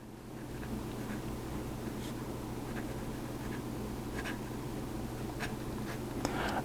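A Jinhao 9016 fountain pen with a medium nib, freshly dipped, writing reverse on paper: faint, close scratchy strokes in short repeated bursts over a steady low background hum.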